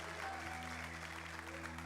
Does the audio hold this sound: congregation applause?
yes